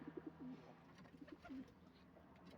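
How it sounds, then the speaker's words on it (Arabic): Soft, low cooing from a pigeon or dove comes in short rhythmic phrases. The calls are close but quiet, repeat several times, and have no talk over them. "هذا طير ميت من الجوع"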